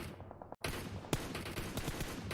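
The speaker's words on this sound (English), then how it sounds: "Shots on the car could work." A rifle opens up on a car during a PUBG Mobile tournament match. Close, sharp shots come in quick bursts, with a brief silent gap and one louder crack among them, over a faint game background.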